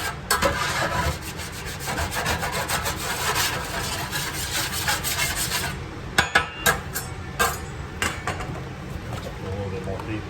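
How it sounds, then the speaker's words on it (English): A spatula scrapes a mixture out of a container with repeated close rubbing strokes, steady at first, then breaking into sharper, separate scrapes. "I'm going to take a spatula and I'm going to get everything out of there that I can."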